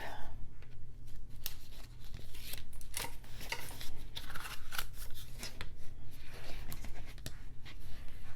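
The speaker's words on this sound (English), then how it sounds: "let's go ahead and remove that tape" Adhesive tape being peeled off paper while a mini album is made, a run of sharp, close rips and crackles with intermittent rustling, a voice speaking briefly.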